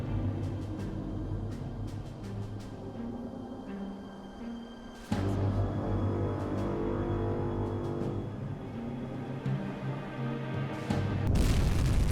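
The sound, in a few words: torpedo hits exploding on destroyer, from UBOAT video game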